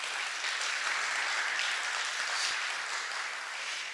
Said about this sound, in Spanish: Yo les pido un fuerte aplauso para Luis Cabrera